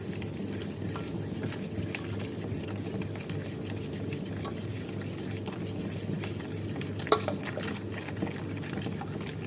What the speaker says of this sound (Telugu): ఇప్పుడైతే మిక్స్ చేసేస్తున్నాం.